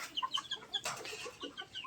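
Gamefowl hens cluck softly in short, repeated chirpy bursts, several birds close by, with a brief rustle in the middle and no talking.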